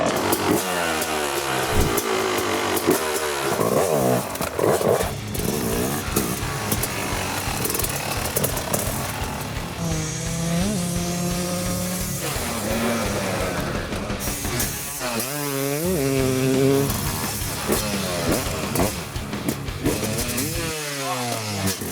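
A brand-new motorcycle at a dealership starts up and revs, the engine climbing and falling in repeated throttle blips with rising whines, loud and close throughout the stretch.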